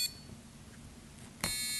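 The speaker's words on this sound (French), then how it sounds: "vous avez réussi à programmer votre premier son électronique" Electronic tone generated on a microcontroller pin for a music lesson: a steady, fairly faint buzzing beep held throughout, rising sharply louder near the end, with no voices.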